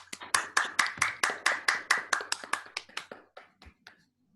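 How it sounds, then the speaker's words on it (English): An online audience unmutes to give a round of applause at a talk on string field theory, heard as about twenty sharp, distinct claps in a fairly even rhythm, thinning out and fading near the end. "you can feel free to unmute yourself and give a round of applause"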